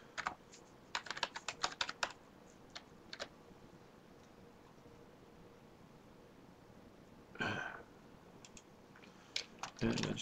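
Typing on a computer keyboard while setting up an online discussion board, quiet clusters of crisp key clicks in short rapid runs, a pause, then a louder clack and a few more taps.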